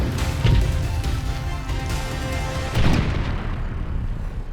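A deep boom from explosives blasting an old underground opal mine in the outback, two heavy low thuds rumbling under a continuous roar that fades out toward the end.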